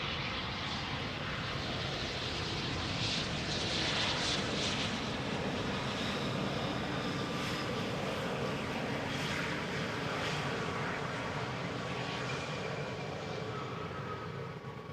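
KLM Embraer 190 jet arriving at Amsterdam Schiphol Airport, its engines a steady, broad roar held at moderate distance throughout, with a faint whine above and no talk.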